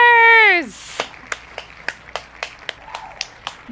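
Sparse applause from a small group closing out a game of the NYT Spelling Bee: a dozen or so separate, crisp claps in an irregular rhythm, close and fairly loud, following a short tone at the start.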